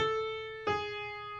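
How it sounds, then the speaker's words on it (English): A single soft piano note rings steadily, and a second note strikes partway through and sustains. Together they form the opening interval of Joy to the World, played close and alone. "But Joy to the World would sound like this,"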